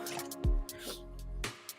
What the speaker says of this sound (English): it's my weird water bottle.